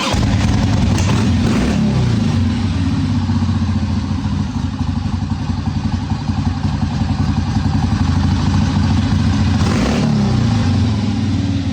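A 1981 Harley-Davidson Ironhead Sportster XLH with the choke turned down, idling loud and close in a steady, lumpy rumble, with a couple of brief blips in revs, and no talking over it.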